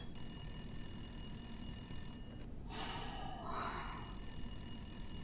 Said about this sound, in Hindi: शोएब, फारूक शब का फोन ह